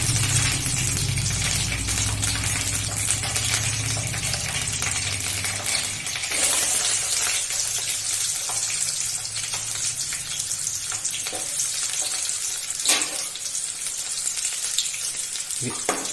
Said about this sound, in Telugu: వీటన్నిటిని నూనెలో ఉడికించుకోవాలి